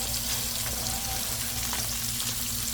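Tofu frying in a pan at home for dinner, a close, steady sizzle and crackle of hot oil with a low hum underneath and no voices.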